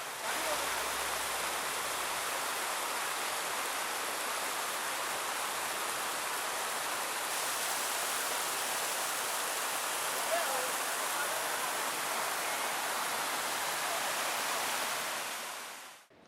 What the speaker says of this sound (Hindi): जी लीजिए इन झरनों से गिरते पानी के शोर का